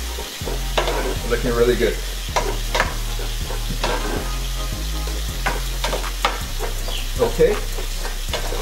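Red snapper fries and blackens in a pan while being stirred, giving a loud, steady sizzle with repeated scraping strokes. A voice speaks briefly over it.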